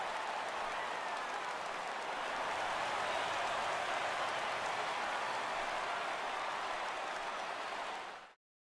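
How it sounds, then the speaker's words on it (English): Stadium home crowd in MLB The Show 17 giving a baseball pitcher a sustained ovation as he leaves the game, a dense, steady roar of applause and cheering that holds loud throughout before cutting off abruptly at the end. "So he receives a nice ovation from this home crowd"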